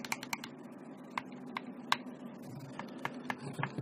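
Bumper and face buttons on a Nacon Revolution Pro controller clicked in quick irregular bursts, sharp light clicks close to the ear, quiet and alone.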